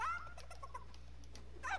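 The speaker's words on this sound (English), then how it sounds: "Yeah, chicken, you're staying on me, bud." A chicken in Fortnite Chapter 2 Season 6 Primal gives a few short, faint clucking calls over a steady low hum, a brief burst near the end.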